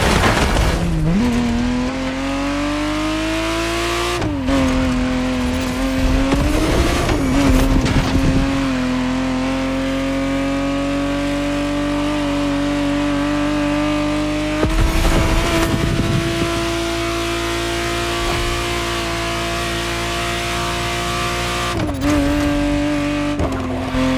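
A 1991 Ferrari Testarossa 512 in The Crew Motorfest, its engine droning steadily and loudly, rising through revs with several gear-change dips and some brief tire noise, with no talk over it.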